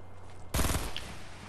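Gunshots from the video game Fortnite erupt suddenly after a quiet half-second, a dense burst of several rapid shots in quick succession, loud and close, then tailing off into low background hum.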